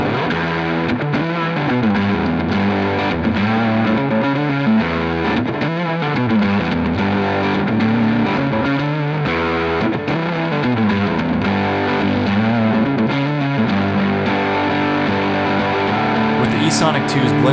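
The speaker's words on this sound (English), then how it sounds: "run the NanoMag into an electric guitar amp with distortion" An acoustic guitar with a NanoMag magnetic pickup feeds a distorted electric guitar amp, giving sustained, loud overdriven chords and riffs that play continuously.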